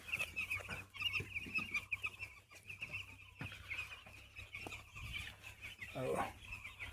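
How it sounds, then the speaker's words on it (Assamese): Eight-day-old broiler chicks on a poultry farm, a dense continuous chorus of high peeping from many birds, fairly faint and steady, with a voice talking over it at times. "চাওক এয়া হৈছে 8 দিনৰ পোৱালি।"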